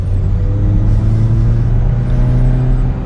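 Car engine under acceleration, heard from inside the cabin during a drive comparing a 2022 Ford Mustang EcoBoost and a Chevrolet Camaro 1LS. The steady, loud low rumble rises slightly in pitch while the car gains speed in normal mode.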